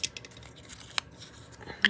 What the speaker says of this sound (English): I gotta find my deckle scissors